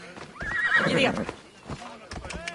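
A horse in Assassin's Creed Odyssey whinnies loudly up close, joined by brief clip-clopping hooves, with a voice speaking over part of it.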